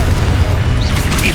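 A Confringo fire blast spell explodes in the video game Hogwarts Legacy, a loud booming burst that rumbles continuously beneath a dense game soundscape.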